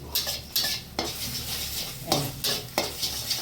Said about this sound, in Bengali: এরকম করে ঝুরঝুর করে ভেজে নেবো আমি ডিমটা